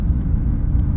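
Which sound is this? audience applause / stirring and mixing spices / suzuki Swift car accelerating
suzuki Swift car accelerating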